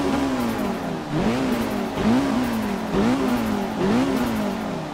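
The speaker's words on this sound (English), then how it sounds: "Love the turbo whistle." Turbocharged Mitsubishi Evo IX engine in the Forza 6 racing game, revving hard in four repeated rising sweeps with turbo whistle and a brief dip between each, loud and close with no talk.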